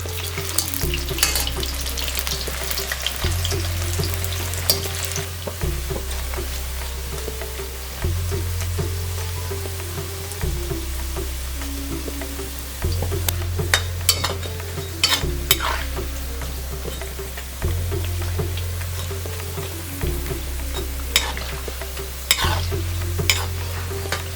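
Vegetable 65 pieces deep-frying in hot oil over a high flame give a steady, close sizzle, broken by repeated stirring and scraping strokes at a regular rhythm throughout, with no voices.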